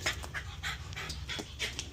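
Dogs panting quickly and rhythmically up close during a wash near a 1995 Jeep Wrangler, soft breathy bursts over faint background noise.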